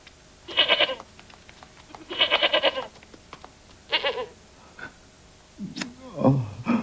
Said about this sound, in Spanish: Su cabra.